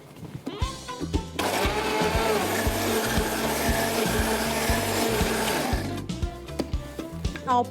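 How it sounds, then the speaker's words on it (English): A kitchen blender whirs loudly and continuously for several seconds as it purées pepper, onion, ginger and water, starting and stopping sharply over rhythmic background music. "I've got my pepper into the blender."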